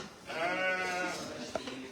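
A sheep bleats on a farm, one long wavering call close by, with people talking around it and a brief knock near the end.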